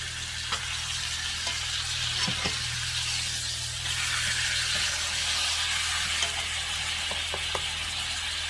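T-bone steaks sizzle in a skillet over high heat, a continuous loud hiss broken by a few faint clicks and scrapes, close up and with no voices.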